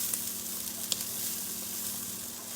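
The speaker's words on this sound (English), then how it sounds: "They are cooking away here." Sweet potatoes cook in a pan with a soft, steady sizzle, faint and even throughout, with one small tick partway through.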